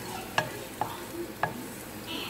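Garlic browns in about two tablespoons of oil in a pan, heard as three sharp utensil scrapes and taps against the pan over a faint, low sizzle.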